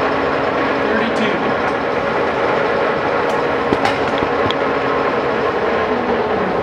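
A Monarch 21" x 54" heavy-duty toolroom lathe runs its spindle at 532 RPM, giving a steady, loud mechanical drone with a faint rattle and a few light ticks over the whole stretch.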